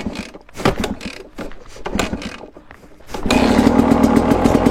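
A KTM 250 two-stroke motorcycle is kick-started: a few scraping kicks and mechanical clatter, then the engine catches and runs loud and steady with a rapid buzzing beat.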